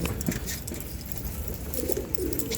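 Hand-trained pigeons cooing softly in a steady low murmur, with faint rustling and scattered background noise around them.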